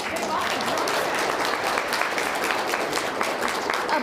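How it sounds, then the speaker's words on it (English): Applause at a school Battle of the Books competition, a steady, fairly loud wash of clapping from the audience with voices and chatter mixed in throughout. "Let's give them some big applause"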